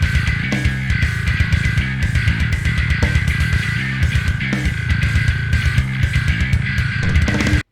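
Electric bass layered from a clean low-end track and a louder high-distortion track, playing a steady driving riff with gritty, buzzy tone throughout, no voices.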